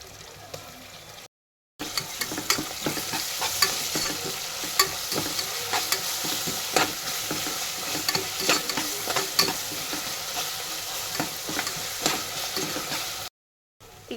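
Onion, green chili and garlic paste with bay leaf fry in oil for pulao, a continuous loud sizzle with repeated scraping stirs, brief silent gaps at the start and end.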